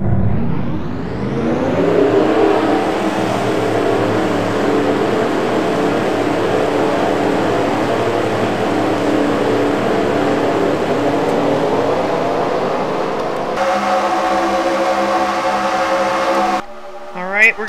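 Race cars rolling at Pocono in a racing video game, a loud sustained engine drone that rises in pitch over the first seconds, then holds steady before cutting to a different engine tone near the end.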